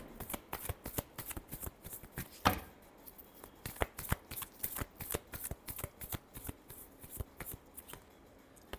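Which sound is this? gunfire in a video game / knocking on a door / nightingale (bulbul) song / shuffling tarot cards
shuffling tarot cards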